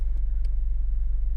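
A 2022 McLaren 720S Spider with a twin-turbo V8 and its roof down idles nearby, giving a steady, loud, deep throbbing rumble with no talking.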